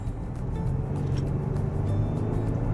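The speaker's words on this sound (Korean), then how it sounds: "가속 페달을 이렇게 밟았을 때" Turbocharged petrol engine in a Lincoln Nautilus or BMW X3 pulling steadily under acceleration as the pedal goes down, a low continuous cabin drone with no talk over it.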